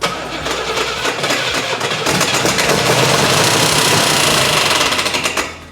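A Camaro Z/28 engine revving loud and close, a harsh sustained roar with a rapid rattling clatter from the fan hitting its shroud, easing off at the end.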